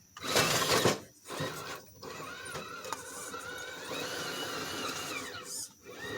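A Team Brood motor fitted to an Element Enduro Sendero HD e-bike whirs and whines at close range, rising and falling in pitch under rough mechanical and tire noise.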